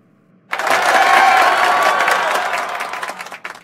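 Audience applause at a stand-up comedy show erupts suddenly and fills the room for about three seconds, a dense, close clatter of clapping that thins into scattered claps at the end.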